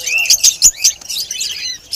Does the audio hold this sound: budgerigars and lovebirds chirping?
yes